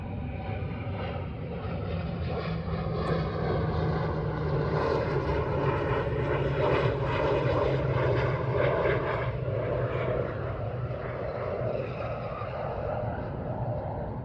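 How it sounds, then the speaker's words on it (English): A low-flying jet plane roars overhead outdoors, a loud, sustained broadband rumble that swells and holds for the whole stretch, slowly easing toward the end with no talk over it. "Man, there's a jet, like right there."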